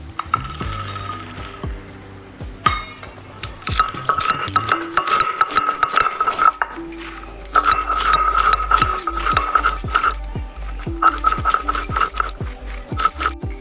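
Roasted peanuts being ground by hand on a traditional stone grinding slab for a rustic village dish: repeated gritty scraping strokes and sharp knocks of stone on stone, close and fairly loud, with crunching in between.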